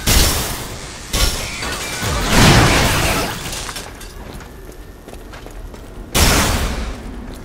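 Gunfire and explosions in Hard Reset Redux, with loud sharp blasts and shattering bursts, the first near the start and another about six seconds in, over a roaring, crackling battle din.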